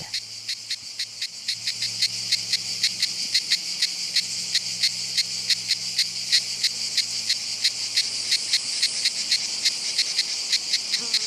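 Cicadas on a sun-baked limestone plateau near Port Miou keep up a loud, steady buzzing chorus with a regular pulsing rhythm, close and unbroken, with no voices.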